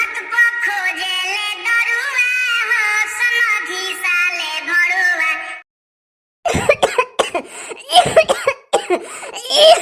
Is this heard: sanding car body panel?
no